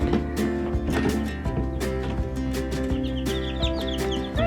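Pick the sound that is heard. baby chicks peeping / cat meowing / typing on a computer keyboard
baby chicks peeping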